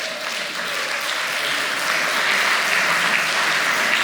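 An audience at a survey discussion and Q&A claps steadily, a dense wash of applause that holds and builds slightly over a few seconds without talk.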